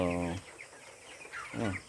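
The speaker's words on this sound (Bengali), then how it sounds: "মুরগি তো ভালো আছে বিশ দিনে তো অনেক সুন্দর হয়েছে মুরগি" Twenty-day-old broiler chickens on a farm cluck in short bursts, fairly close, with a voice heard at the start and end.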